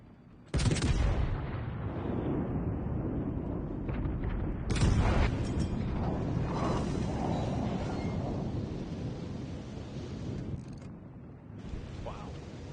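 Naval artillery in World of Warships Legends, with high-explosive shells from an Imperator Nikolai battleship, booms in heavy, repeated blasts over a rumbling battle, loud and dense throughout, with voices talking over it.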